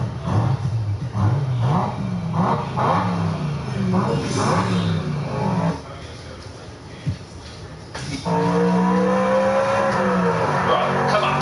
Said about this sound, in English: the sound, the raw sound of the exhaust.